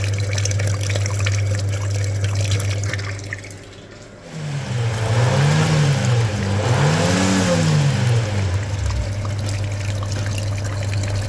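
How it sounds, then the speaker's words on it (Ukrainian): Water spraying over a dirty car engine during a cooling-system flush, a steady close hiss and splash that swells and wavers while a motor whines up and down underneath. "Миємо двигун."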